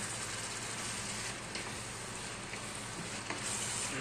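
Chicken sizzles steadily in a pan with onion, tomato and ginger paste, a constant close frying hiss with faint stirring scrapes and no talk.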